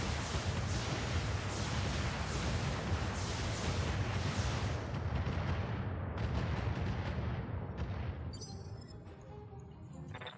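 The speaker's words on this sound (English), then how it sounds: "Firing a full salvo." A Stinger mech in the BattleTech game unloads a full weapon salvo, a dense, loud barrage of rapid overlapping blasts and impacts that rolls on for several seconds before breaking up into scattered crashes and fading.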